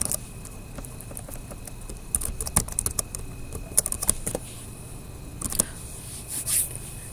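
Fingers tap out HTML code on a computer keyboard, a quick uneven run of crisp, close key clicks in short bursts, with no talking over them.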